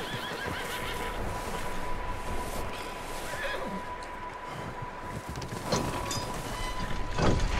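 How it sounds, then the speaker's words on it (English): Horse neighing inside a barn in the video game Red Dead Redemption 2, several whinnies over a steady rumbling game ambience, moderately close and clear, with hoof clip-clop and no talk. "is that a random horse?"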